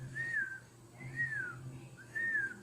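A voice imitates the wheezing whistle of narrowed airways during inspiration, as heard in severe shortness of breath: three rising-falling whistled tones, each about half a second, evenly spaced over a low background hum.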